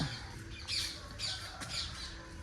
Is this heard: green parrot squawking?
yes